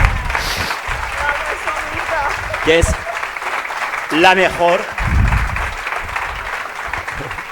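An audience applauds warmly and continuously for a woman being honoured at a gathering, while a speaker's voice carries over the clapping.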